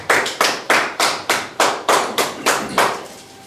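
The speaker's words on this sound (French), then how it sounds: "Acclamons pour le Seigneur." A church congregation claps in a steady rhythm, about ten sharp, evenly spaced bursts of applause filling the room with no talk over them.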